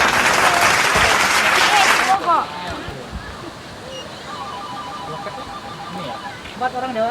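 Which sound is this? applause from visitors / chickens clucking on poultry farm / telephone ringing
applause from visitors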